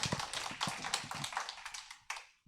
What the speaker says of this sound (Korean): 잘했어요. 박수.